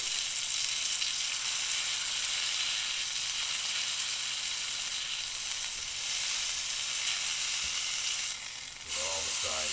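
A grass-fed ribeye steak sears in a pan over very high heat, giving off a loud, continuous close-up sizzle and hiss that lasts throughout, with a brief clatter near the end.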